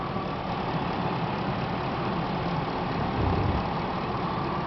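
A 2004 Chevy Suburban engine idles steadily with a continuous low rumble and broad mechanical hum, close and unbroken, no voices over it.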